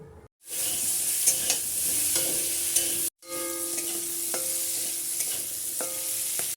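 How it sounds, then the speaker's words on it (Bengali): Chopped vegetables for khichuri, including pumpkin, beans, carrot and cauliflower, fry in hot oil with a steady, bright sizzle. Stirring strokes and clinks come through on top, and the sound cuts out briefly partway through. "প্রথমে আমি সবজিগুলোকে ভেজে নেব।"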